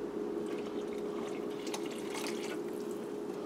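About one and a half cups of water poured into a rice cooker pot over tomato sauce and garlic, a steady splashing trickle with a faint electrical hum underneath, close and fairly quiet.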